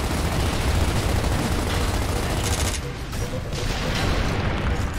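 Enemy sniper fire and surrounding combat in Gears of War, a dense, constant barrage of gunfire and crackling noise that briefly thins before surging again.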